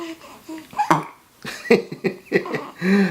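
A baby burps while being held by its father at home, with several short voiced bursts and a few soft hiccup-like gulps close to the microphone, ending in a longer, louder belch.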